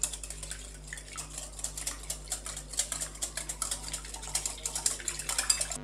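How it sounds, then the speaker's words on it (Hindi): A spoon quickly whisks French toast batter of eggs, soy sauce, cardamom powder and milk in a bowl, making a fast, steady run of light clicks and taps against the sides, close and with no talking. "अच्छे से हम इसको मिक्स कर देंगे।"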